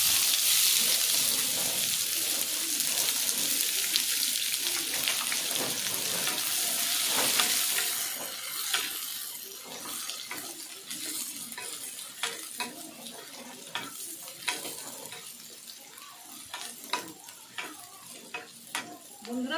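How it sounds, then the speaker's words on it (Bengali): Chopped onion frying in hot oil with whole garam masala, loud continuous sizzle at first, then quieter crackling with sharp stirring scrapes at irregular intervals, no talk. "বন্ধুরা, পেঁয়াজটা ভালোভাবে ভেজে নেব।"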